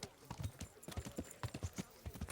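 Horse hooves clip-clop in a video game, a quick uneven run of distinct close hoof strikes, some soft and some sharper, over a faint background.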